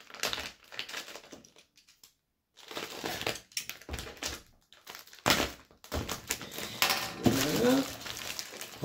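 A box cutter slices open a Temu parcel in close, crunchy bursts of plastic and cardboard scraping and tearing, with brief pauses between strokes.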